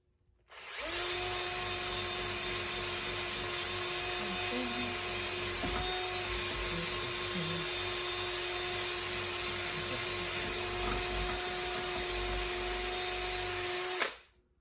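A buffing wheel polishing an aluminium intake manifold spins up to a loud, steady whine and hums continuously for over twelve seconds, with faint scuffs of contact, then cuts off abruptly.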